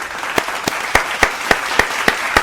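Steady audience applause with sharp, evenly spaced claps punching through a dense wash of clapping, moderately loud and continuous, with no talk.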